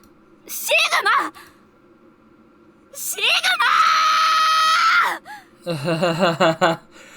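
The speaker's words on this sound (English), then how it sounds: "it just feels so weird just to hear her scream Sigma in a weird place there" A voice screams a name in a video game, Zero Escape: Virtue's Last Reward, a drawn-out loud cry with other voiced exclamations before and after it.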